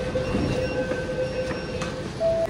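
Kolkata Metro train running steadily, a loud close rumble with a sustained electric motor whine and faint wheel hiss, continuous throughout with no talk.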